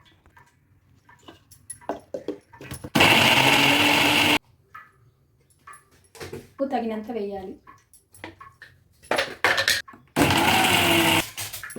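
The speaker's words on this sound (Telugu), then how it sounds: "వేసి మిక్సీ పట్టాలి." A kitchen mixer grinder runs in two loud, steady bursts while grinding mint and tomato chutney, with someone talking between the bursts.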